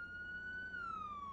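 A police siren in a roleplay video game wails in a single smooth, slowly falling tone, faint and steady, with no one talking over it.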